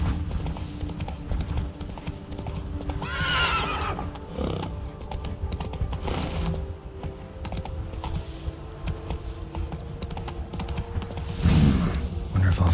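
Roach, the horse in The Witcher 3 video game, trots with rhythmic clip-clop hoofbeats and gives a couple of neighs and whinnies. A voice speaks briefly at a modest level over the moderate game sound.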